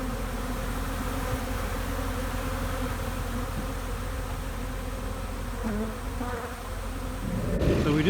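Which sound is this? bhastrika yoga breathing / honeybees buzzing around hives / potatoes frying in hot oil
honeybees buzzing around hives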